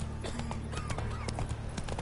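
Hooves of the horse Roach in the video game The Witcher 3, a steady clip-clop of galloping hoofbeats under a low background drone, moderately quiet with no talk.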